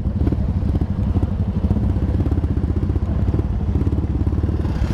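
A Honda CB motorcycle being ridden on a highway morning ride, its mid-pitched engine loud and near with a steady pulsing throb and some clatter, with no voices.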